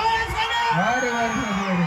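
An audience at a live stage show in Badvel, Nellore yells, whoops and cheers together, a loud, continuous wall of excited voices with rising shouts that swell and fall over the full two seconds.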